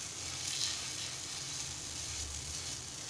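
Malpua batter spreading onto a hot griddle gives a soft, continuous sizzle, faint and steady with a hiss that swells briefly near the start.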